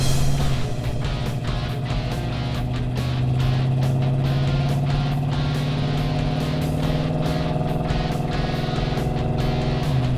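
A 1973 AMC Javelin with a 360 V8 engine drives along, its steady low engine drone holding at an even level throughout, heard from inside or close to the car with no talk.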